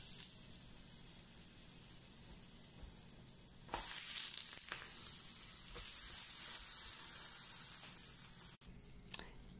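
Aubergines hit an oiled frying pan and burst into loud, steady sizzling that carries on at an even level, preceded by softer bubbling and ending with a brief clatter, with no voices.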